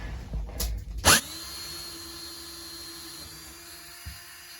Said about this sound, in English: That's called a step bit. It's really good for thin sheet metal. You know, it drills through pretty good.